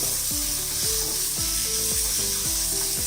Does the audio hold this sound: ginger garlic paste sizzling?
yes